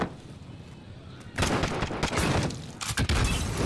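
Rapid gunfire from a Call of Duty 2v2 Gunfight match: a burst of loud, dense shots kicks in after a quiet start and continues with brief gaps, with faint game ambience underneath.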